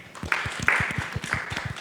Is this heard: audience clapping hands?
yes